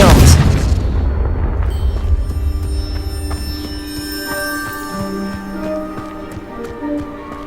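A Confringo blasting spell goes off in the wizarding game Hogwarts Legacy as a loud, close boom. The blast fades into a long, shimmering, bell-like ringing tail.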